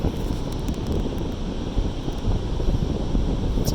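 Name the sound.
strong wind on the Cornwall coast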